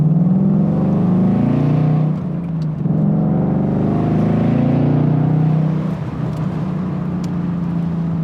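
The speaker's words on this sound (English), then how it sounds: "I'm going to end it off with the exhaust in sport mode. I'll just do a quick little burst." A 2021 Ford Mustang Premium Convertible V8 with its exhaust in sport mode gives a quick burst: a loud, close, deep rumble that rises and falls twice in the revs, with no talk over it.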